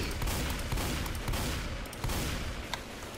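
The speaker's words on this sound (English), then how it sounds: "Shot him so many times" Sustained gunfire in the zombie shooter Left 4 Dead 2, loud continuous rapid shots that blur into a dense roar with a few sharper cracks standing out.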